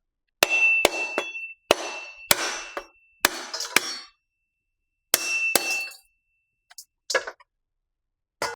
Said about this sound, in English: now I'm going to break the coconut and blend it.